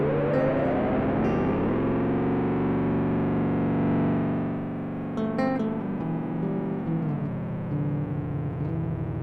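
A distorted electronic drone from a circuit-bent DeltaLab digital delay self-oscillating, with smeared, repeating echoes feeding back into a sustained howl, its pitch slowly sliding and wavering.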